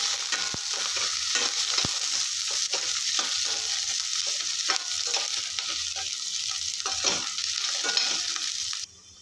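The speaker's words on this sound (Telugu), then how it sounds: "హీట్ అయిన తర్వాత ఆవాలు, 2 ఆనియన్ వేసి బాగా ఫ్రై అవ్వాలి." Mustard seeds and onions fry in hot oil for a radish sambar, giving a steady close sizzle broken by crackling pops and a few stirring scrapes until it cuts off abruptly near the end.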